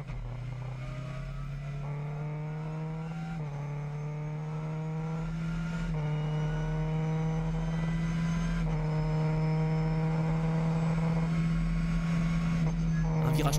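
A Lamera Cup race car accelerates hard at the Red Bull Ring in wet conditions, its engine drone climbing through several gear changes in a loud, sustained whine heard from on board, with commentary running over it.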